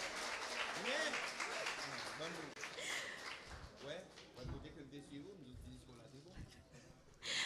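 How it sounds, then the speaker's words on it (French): An audience applauds at a cocktail evening for the 25th anniversary of the Orchestre Lauda. The clapping is fairly quiet and patchy, and voices talk over it throughout. "On l'applaudit, s'il vous plaît."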